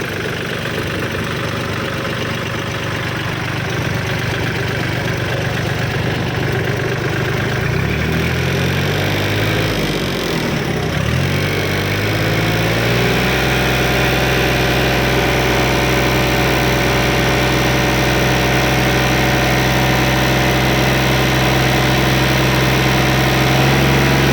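A Kubota L4018 tractor fitted with a dozer blade and disc harrow idles close by, a loud steady diesel rumble with a knocking pulse and a brief dip and change in pitch partway through.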